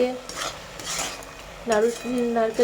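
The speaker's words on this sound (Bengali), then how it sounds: "হাই ফ্লেম টু লো ফ্লেমে এরকমভাবেই নেড়ে যেতে হবে যতক্ষণ না এটা আঠা আঠা ভাব আসছে" Raw papaya naru mixture stirred in a pan with a metal spoon, close scraping and clinking strokes, with short tonal squeaks between them and a soft background hiss.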